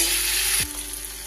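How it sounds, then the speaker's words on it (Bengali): Potatoes and spice paste fry in oil with a loud, close hiss that suddenly drops to a quieter sizzle partway through, as they are stirred, for an egg curry. "আলুগুলোর সাথে মশলা খুব ভালো করে মিশিয়ে দেব।"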